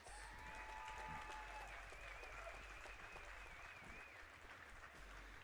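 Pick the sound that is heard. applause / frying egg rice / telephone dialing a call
applause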